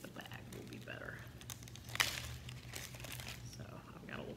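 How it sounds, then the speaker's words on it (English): A small plastic bag is crinkled and handled while rice is poured in for a craft heating pad, with a soft rustle and a brief sharper crackle midway over a steady low hum and some quiet background voices. "So I've got a little plastic bag that I can just dump the rice in."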